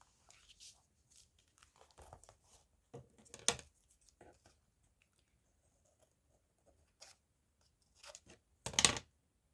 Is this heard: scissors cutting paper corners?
yes